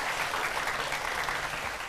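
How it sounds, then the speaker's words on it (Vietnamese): A short burst of dense audience clapping, steady and even throughout, with no voices over it. "Vỗ tay đi ạ."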